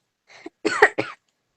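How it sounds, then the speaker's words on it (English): A short burst of allergy coughing, a few harsh rasping coughs in quick succession, close and fairly loud, with no talking. "if you hear me coughing"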